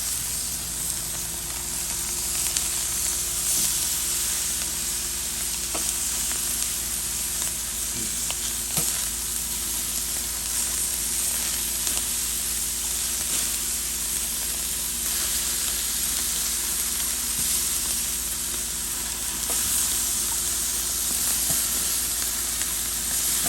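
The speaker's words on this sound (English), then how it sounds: "listen to that sizzle" Loud, steady sizzling and crackling of chicken frying on a hot cast iron grate on a Weber kettle grill, continuous throughout with occasional sharper pops.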